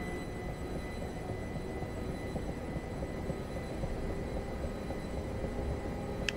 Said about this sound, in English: doesn't sound too bad for being an EMU either